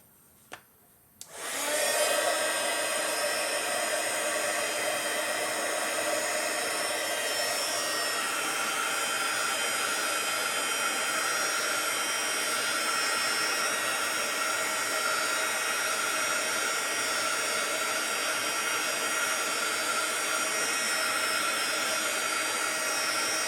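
After a quiet moment with a small click, a heat gun used for heat embossing roars on and blows steadily for a long stretch, a loud constant whooshing hiss with a faint whine and no speech.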